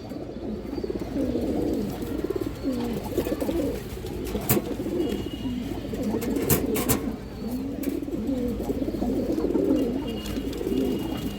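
Pigeons coo continuously nearby, overlapping rounded calls repeating throughout, with occasional sharp clicks and rustles from birds in a loft, no talking.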